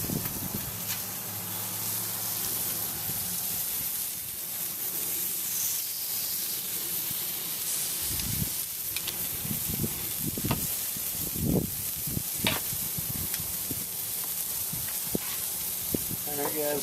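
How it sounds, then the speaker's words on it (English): Steady sizzling hiss of chicken breasts and thighs cooking over hot charcoal on a live-fire grill, with occasional pops and soft clunks as items are moved around. "There's nothing like the sound of the sizzle of some hot charcoal."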